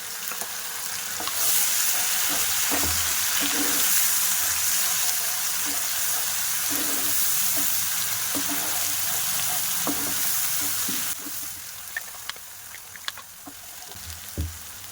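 Spices and masala paste for chicken curry fry loudly in a pan, a steady dense sizzle with stirring scrapes that drops to a quieter crackle with sharp clicks near the end.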